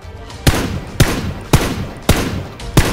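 Gunfire in the PUBG video game: five sharp, loud shots spaced about half a second apart in a steady rhythm, each with a short crack and tail over a low background hum, no voices.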